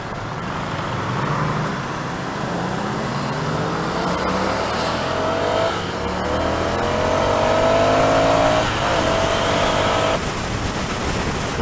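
A Ducati Scrambler motorcycle accelerates, its engine note climbing through rising revs with shifts, steady and close under rushing wind noise, with no talk.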